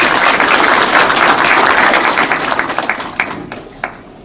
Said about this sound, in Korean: 축하 박수 부탁드립니다